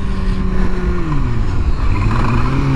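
A motorcycle engine revs and drones close by during wheelie practice, its pitch rising and falling steadily over a few seconds with no talking.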